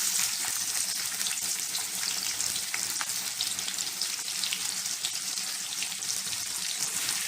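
Chopped onions fry in hot oil for a prawn thokku, giving a steady, even sizzle with scattered small crackles, close and continuous throughout, with no talking.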